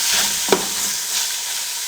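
Spices being stirred into mutton qorma in a pot, a soft scraping and sizzling texture with one brief louder knock of the spoon midway, steady and close.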